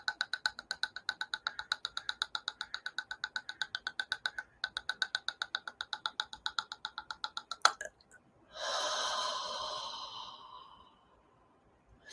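A single long, airy breath is drawn during a meditation, following a steady train of quick rhythmic ticking pulses that stop abruptly. The breath swells and fades softly, close and alone with no talking.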